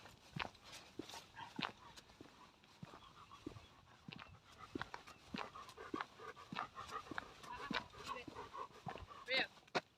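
A dog pants heavily and rapidly outdoors during a walk in a new area, close by, with occasional soft whimpers and footsteps in the background.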